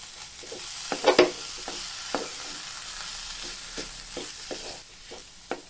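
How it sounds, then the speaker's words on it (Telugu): Spoon stirring chapati stuffing mixed with coriander and curry leaves in a pan, soft scraping and a few sharper clinks, quiet with a light hiss beneath and no talking. "బాగా కలిసేటట్టుగా మిక్స్ చేసుకోవాలి."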